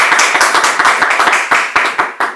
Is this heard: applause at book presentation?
yes